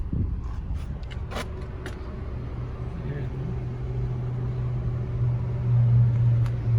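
A 2017 Nissan Altima S engine idling with a steady low hum that grows slightly louder, with a few light clicks and knocks early on.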